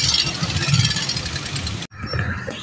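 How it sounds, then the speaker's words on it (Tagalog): Town traffic rumbles through Gumaca, Quezon, with the close drone of running and idling engines, a brief sharp cutout near the end, then the engine noise resumes. "Traffic ang bayan ng Gumaca."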